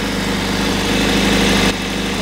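A Honda CBR1000RR-R motorcycle engine idles steadily just after starting, a loud, even throbbing with a slight dip near the end.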